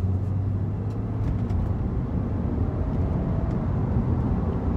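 BMW 328i with the N52 engine and three-stage intake manifold, cruising with the throttle eased off: a steady, even low drone and road rumble, constant and moderately loud, with no talking.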